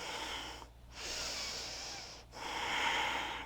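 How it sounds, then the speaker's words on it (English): Deep breaths during a yoga class, two long broad exhalations or inhalations, each lasting over a second, separated by brief pauses, heard close and alone without talk. "Breathing deeply."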